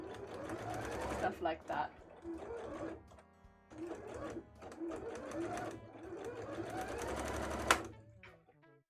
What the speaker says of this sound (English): I just need to do some neat top stitches for the bottom